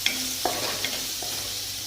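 Cumin, asafoetida and ginger-chili paste stirred in hot oil, giving a constant close sizzle with a few soft spoon scrapes in the first second.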